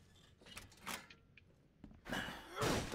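Locked door being tried in The Sinking City, soft handle rattles and thunks followed by a louder clunking rattle, close but fairly quiet, with no voices.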